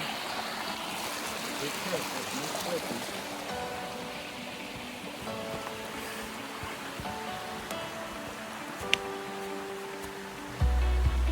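A mountain creek in the Great Smoky Mountains near Camel Gap Trail rushes steadily in the background as a hiker crosses it, a continuous moderate wash of flowing water with faint voices, a brief click and a louder bump at the end.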